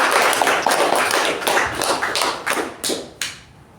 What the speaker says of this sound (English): Let's give him a special round of applause.